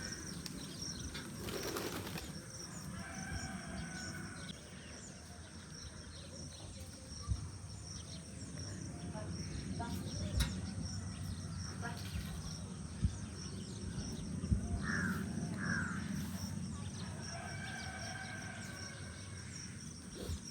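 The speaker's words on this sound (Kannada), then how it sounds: "ಗುಬಚ್ಚಿಗಳು, ಪಾರಿವಾಳ, ಕಾಗೆ ನೋಡಿ." Pigeons flap their wings and coo among other birds at a home, soft and somewhat distant over a steady hum of insects and crickets, with a few brief wingbeat bursts.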